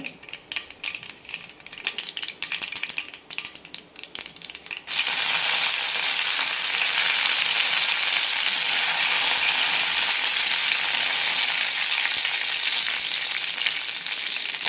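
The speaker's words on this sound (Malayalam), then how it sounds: "കടുക് പൊട്ടിക്കഴിയുമ്പോൾ കറിവേപ്പില ഇടാം" Mustard seeds crackle and pop in hot sesame oil in a pan for raw mango pickle, then a loud, continuous sizzle takes over as curry leaves hit the oil, close and steady to the end.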